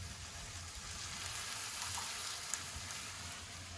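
Garlic and onion sizzle in a pan with red pepper flakes in a steady, soft frying hiss, fairly quiet and even, with no talking.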